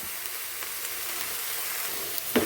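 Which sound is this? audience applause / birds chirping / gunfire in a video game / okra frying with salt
okra frying with salt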